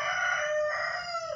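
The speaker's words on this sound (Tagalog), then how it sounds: "Ang background music ko yung tilaok ng manok." A rooster crows loud and close, one sustained cock-a-doodle-doo call heard alone with no talking.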